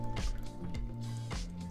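Evaporated milk pours into a pot on a stove in a home kitchen, with wet glugging drips and small liquid plops heard up close, alone and without talk.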